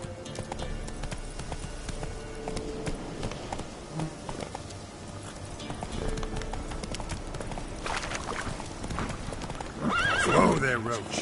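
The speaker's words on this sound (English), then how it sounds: "Whoa there, Roach" A horse's hooves clip-clop steadily in a PS4 video game, with a whinny and buzzing insects in the background. Spoken voices run over the hoofbeats.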